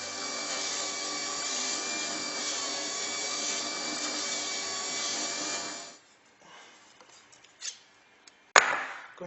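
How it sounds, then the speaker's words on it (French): A steel wood chisel grinds against a turning grinding wheel in a continuous, steady rasp for about six seconds, then stops, followed by a few faint clunks and a sharp knock. "mon ciseau est bien passé à la meule"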